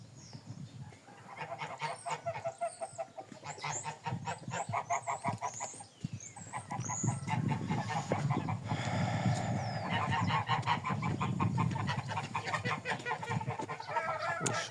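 Young geese held in a large backyard pen, honking loudly and repeatedly in overlapping calls close by, with clucking chickens mixed in and the honking growing denser toward the end.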